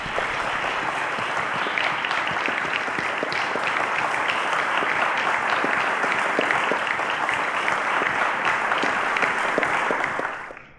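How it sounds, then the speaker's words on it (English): Studio audience at a televised quiz show applauding a departing contestant, loud sustained clapping that runs evenly for about ten seconds and then stops abruptly. "Ladies and gentlemen, a round of applause to Vanessa."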